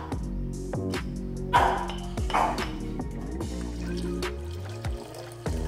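A stray dog being fed at a village home gives a string of short, close barks and whining yelps, mixed with dripping and splashing water in the background.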